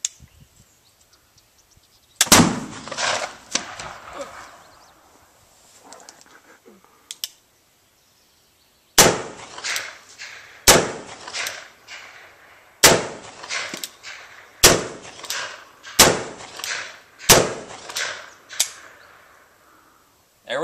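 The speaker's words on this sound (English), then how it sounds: "This time I'm going to use two cylinders in the Remington, and I'm going to be shooting at a paper target." Remington black powder revolver gunshots at backyard cowboy action shooting on a paper target, loud sharp cracks with ringing decay, a few early shots, a pause, then a quicker string of about eight shots.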